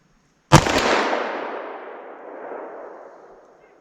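A single loud, sharp shot from a .327 Federal Magnum firing Buffalo Bore ammunition at a 50-yard target outdoors, with a long rumbling echo that slowly fades.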